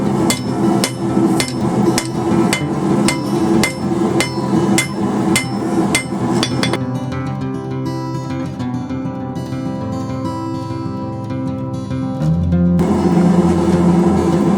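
A hot railroad spike being forged to a point, hammered in a fast, loud, even run of ringing strikes for about seven seconds, then a quieter stretch, then louder shop noise.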